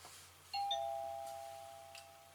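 A wireless door sensor chime kit receiver plays a doorbell-style tone, a clear two-note electronic chime that rings out and sustains alone in a quiet room.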